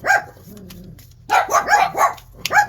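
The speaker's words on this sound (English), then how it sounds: "I pause it to hush these dogs up" Dogs barking at home: a quick run of sharp barks, then a short lull with a low whine, then five or six loud close barks in rapid rhythm.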